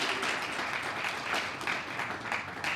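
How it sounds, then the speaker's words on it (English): A conference audience applauds after speakers from Lincoln Center for the Performing Arts are introduced. Steady, dense clapping fills the whole stretch at moderate volume. "So can we give them both a round of applause?"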